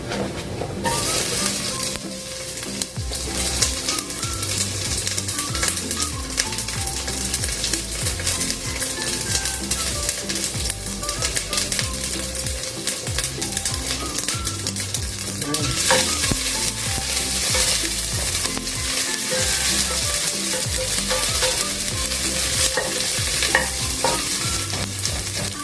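Garlic sizzles and fries steadily in a hot pan, with a utensil stirring and scraping through it close by over the whole span, loud and continuous with no talking.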